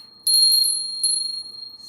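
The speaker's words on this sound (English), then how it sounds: "I have some bells." Small bells from India ring in two bright, shimmering bursts, the first a quick cluster of several strikes and the second a single jingle, each leaving a clear sustained tone that slowly fades.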